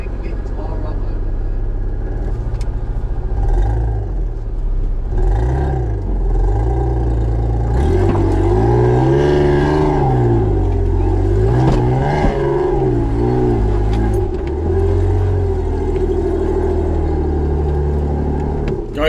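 A Toyota Hilux TRD with independent front suspension and full hydraulic steering revs its engine as it punches up a dirt bank, a loud, steady rumble that swells and falls. Someone talks over the engine.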